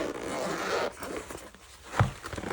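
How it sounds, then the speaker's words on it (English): A zipper on a fabric case for art markers is pulled open in one long rasping run, close and fairly loud, ending with a short tug. "And it comes in this beautiful zipper case. Let's open this up"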